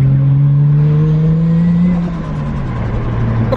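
A stock Toyota 1JZ engine revs hard and steady in first gear, pitch climbing then dropping as it shifts, loud and close with no talking.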